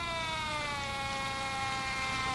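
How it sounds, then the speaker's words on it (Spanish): A fire engine siren of the Viña del Mar fire brigade wails steadily and loudly at a funeral tribute for an admiral, its rising harmonic tones sustained throughout with no talk. "el ulular de la sirena de su carro bomba"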